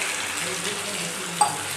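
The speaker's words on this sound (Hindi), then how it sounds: "हम इसमें ज़्यादा पानी नहीं डालेंगे, हाफ छोटे गिलास डालेंगे" Half a small glass of water pours into Bengali chicken kosha cooking in a pan, a steady hiss and splash with sizzling, close by, while a voice talks.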